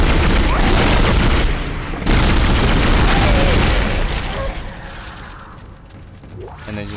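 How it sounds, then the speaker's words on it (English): Kamikaze enemies with giant glowing sacks run in and explode in the video game Dead Space, producing loud, heavy booms and mechanical clatter up front that thin out into a fading rumble. "They just run into you and explode with these giant glowing sacks on them."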